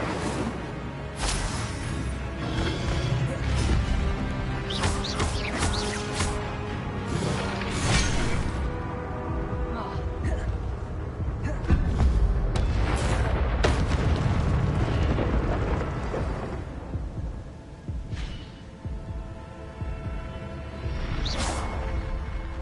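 Fire spells cast in Hogwarts Legacy roar in a dense, loud barrage of booms, fiery whooshes and bursts that layer over one another almost without a break, carried on a low rumbling bed.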